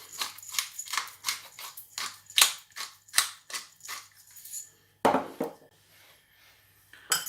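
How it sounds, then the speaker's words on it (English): A utensil works through red cabbage coleslaw dressed with apple cider vinegar, salt and black pepper in a bowl, giving a steady series of close crunchy scrapes and soft clatters, followed by a sharper clunk and quieter rustling. "And I'll give that a bit of a mix. Just get everything nicely combined."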